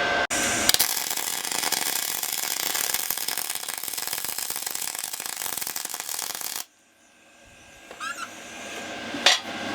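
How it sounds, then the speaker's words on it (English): A welder lays a bead on metal while a complex iMac wall mount is being built. A loud, steady crackling hiss runs unbroken for about six and a half seconds, then stops abruptly, leaving only faint handling noises. "just basically blasting a weld in, and sits really nice"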